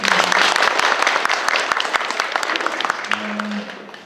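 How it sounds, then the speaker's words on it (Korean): Audience applause for panelists at the close of a multicultural community forum in Anseong, a steady dense clapping that fades slowly, with a brief voice near the end. "다양한 토론을 해주신 우리 토론자 여러분께 큰 박수 한번 부탁드리겠습니다."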